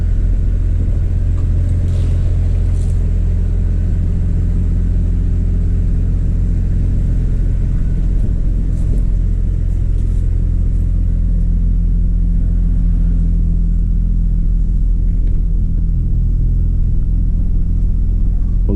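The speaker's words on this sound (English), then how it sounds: "Just let it idle for a while and see what happens." A 2003 Chevy Trailblazer LTZ 4x4 engine, just fitted with new valve cover and intake manifold gaskets and checked for a misfire, idles while warming up: a loud, steady low rumble heard close, unbroken throughout.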